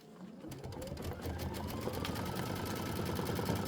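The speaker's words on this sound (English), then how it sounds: "Seven minutes of stitching," An embroidery sewing machine stitching a Kimberbell wallflower quilt block, starting after a brief pause and then running as a rapid, steady mechanical chatter of needle strokes, close and loud throughout.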